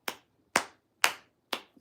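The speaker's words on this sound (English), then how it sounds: "Clap your hands, everybody." Four sharp, evenly spaced hand claps ring out about half a second apart, each crisp and close with a quick decay, alone against silence.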